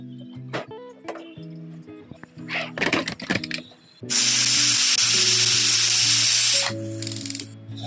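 A pressure cooker cooking jeera rice lets out a loud, steady hissing whistle lasting a few seconds, preceded by scattered kitchen clatter and followed by quieter clinks.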